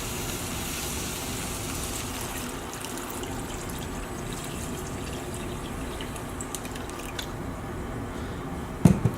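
Water pours steadily into a pot of potatoes, a continuous close splashing and trickling that keeps the same level throughout and ends with a few small clunks.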